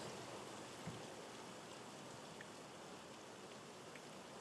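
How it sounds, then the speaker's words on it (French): Steady rain falls continuously in the morning, a soft even hiss of drops on surfaces with no pauses and no voices, moderately faint and constant throughout. "il pleut depuis le matin"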